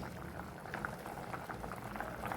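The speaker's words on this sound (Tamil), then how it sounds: "இப்போ சில இந்த காய் வந்து நல்லா கொதிக்கட்டும்" A pot of yellow pumpkin sambar with vegetables bubbles at a steady boil, soft continuous burbling and popping close by with no talking.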